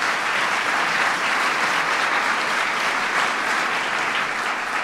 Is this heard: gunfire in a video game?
no